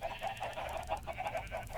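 Chickens in the Minecraft video game cluck in a quick, regular series of short, nasal pulses, fairly loud and close, with no voices during the run.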